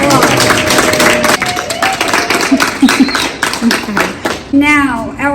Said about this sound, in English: Let's give DJ a round of applause.